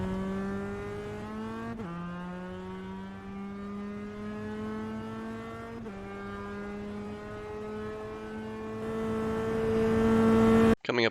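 A Global MX-5 Cup race car in the iRacing sim at Circuit of the Americas accelerates hard, its engine note climbing steadily through two upshifts, loud and close, ending in a brief burst.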